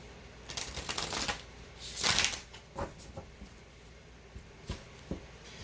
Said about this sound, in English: I think after a while I would get uncomfortable shuffling that way.